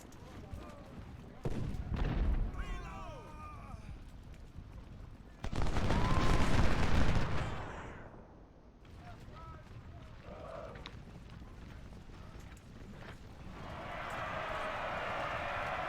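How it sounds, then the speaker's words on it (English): Battle sounds in the Civil War strategy game Ultimate General, Union campaign: bursts of gunfire and heavy artillery booms, one long loud barrage midway, with a voice commentating over the fighting. "Loomis is still taking shots at Ransom."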